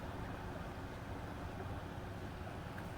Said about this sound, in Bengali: ইন্ডিয়ার পতাকা উড়িয়ে উড়িয়ে একটা ট্রলার যাচ্ছে